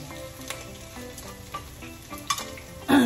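Lots of garlic sautéing in hot oil for lechon paksiw, a steady close sizzle with light stirring scrapes and utensil clicks, ending in a louder clatter, no voices.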